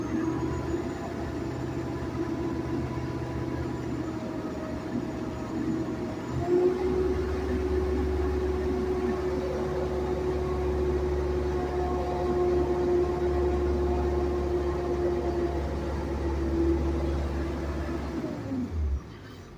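The cold 7.3 V8 diesel in a 2003 International 3800 school bus idles with a steady, smooth low rumble, stepping up slightly in pitch partway through before cutting off near the end.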